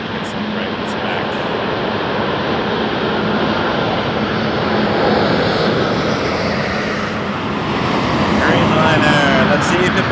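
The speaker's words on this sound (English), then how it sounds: "Dreamliner, let's see if it butters it" Boeing 787 Dreamliner, an Air Canada heavy jet, on landing approach at Toronto Pearson in fog and mist; a loud, steady engine roar swells and holds throughout, with voices talking over it.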